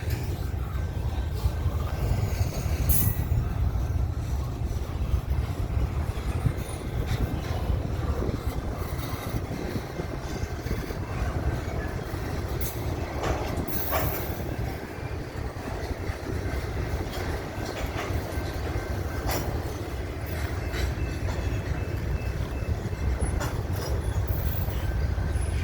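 A freight train with DPU locomotives rolls past on the Herington line, its wheels and cars producing a continuous rumbling clatter with occasional squeals and clicks, steady and fairly close throughout.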